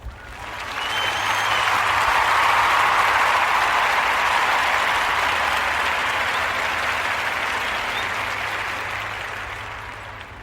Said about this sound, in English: It's time to clap for me.